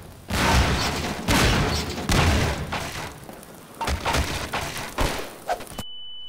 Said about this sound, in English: I'm gonna throw a bomb full of knives at them.